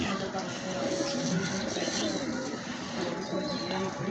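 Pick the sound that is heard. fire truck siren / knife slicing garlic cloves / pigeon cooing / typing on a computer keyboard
pigeon cooing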